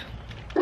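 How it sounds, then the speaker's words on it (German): A dog barks once, a short, loud, close bark at the very end after a quiet stretch of faint background noise. "Ich höre schon Leon bellt"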